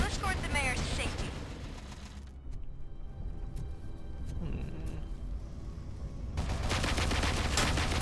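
Rapid turret gunfire in the video game RoboCop: Rogue City: loud bursts of automatic shots, a lull, then another heavy volley, with game sounds and voices around it.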